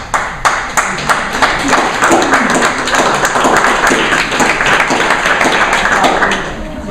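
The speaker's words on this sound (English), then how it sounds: "We don't get applause too often" Audience at a Latrobe, Pennsylvania school board regular meeting applauds after a motion passes unanimously, steady close clapping from many hands that fills the room for several seconds and fades slightly at the end.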